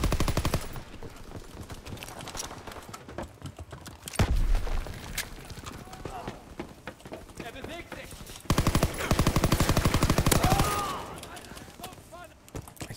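Video game gunfire in a shooter played on a live stream: rapid automatic bursts crackle through much of the stretch, with louder, denser volleys in the middle and late parts, heard under ongoing talk.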